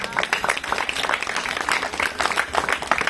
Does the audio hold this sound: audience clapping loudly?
yes